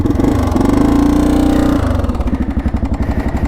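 A 1984 Honda XL350R dual-sport motorcycle engine runs close by with a steady, loud drone that drops to a lumpy, pulsing idle, with no talking.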